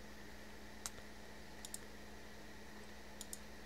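Faint, sparse clicks from a lockable storage block in Minecraft, a few scattered ticks over a low steady hum and hiss.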